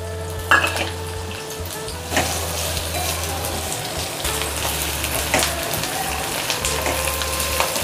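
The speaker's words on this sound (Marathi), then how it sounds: "एक मोठ्या साईजचा कांदा जाडसर कापलेला, तोही आपल्याला बदामीच्या रंगावर भाजून घ्यायचा आहे।" Coarsely cut onion roasts in a pan with a steady sizzle and frying hiss, and a spoon or utensil scrapes and clinks against the pan now and then.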